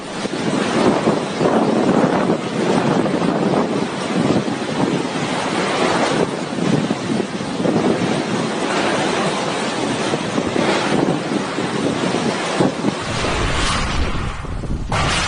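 Cyclone Amphan winds roar without pause, loud and buffeting against the microphone in a dense, gusting rush that barely varies before easing slightly near the end.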